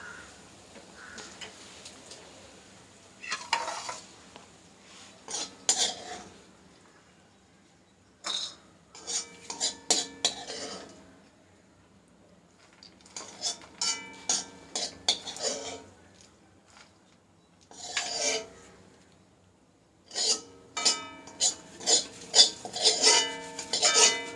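A metal spoon scrapes and clinks against a pan and plate as cooked tomato and tamarind are transferred, coming in bursts of clattering dish noise separated by quiet gaps.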